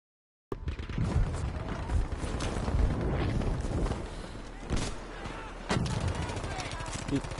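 Battlefield V gunfire cracks out in rapid bursts and single loud shots over rumbling battlefield noise, with distant booms mixed in and a player's voice talking over the action.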